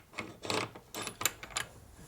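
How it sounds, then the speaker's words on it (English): Metal parts of a 1942 Harley-Davidson WLC/WLA 45ci transmission clink and clatter faintly as the cluster gear is lifted, with several brief close ratcheting knocks and scrapes. "Lift up the cluster gear."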